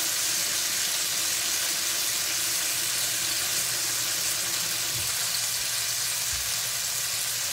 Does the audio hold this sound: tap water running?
yes